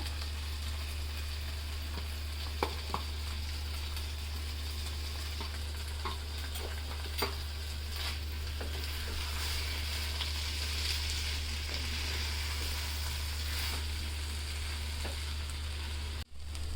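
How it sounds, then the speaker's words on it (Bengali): Soft steady frying hiss of rice in mustard oil, with occasional light stirring clicks, under a constant low electrical hum, fairly quiet and unbroken. "চালটা আমার ভাজা হয়ে গেছে আপুরা"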